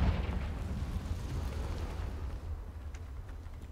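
A Confringo fire spell explodes in the Hogwarts Legacy video game, a dense roaring blast with rumbling low-end that fades gradually over a few seconds.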